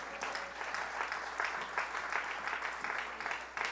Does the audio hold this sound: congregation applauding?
yes